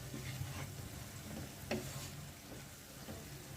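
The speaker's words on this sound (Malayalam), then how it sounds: "നന്നായിട്ടൊന്ന് ഇളക്കി കൊടുക്കാം." Garlic pickle with ground fenugreek and spices being stirred in a pan, a faint, low continuous frying hiss with soft scraping strokes and one brief clink of the spoon, no talking.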